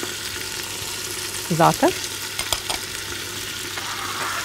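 Onion, celery and garlic sautéing together in a pot with carrots for chicken soup, a steady soft frying sizzle running throughout, with a voice speaking briefly over it.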